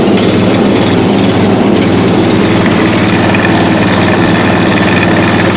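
A 1992 Yard King lawn tractor, first started after sitting seven years with flat tires, runs with a steady, loud low-pitched engine drone that holds throughout with no pauses.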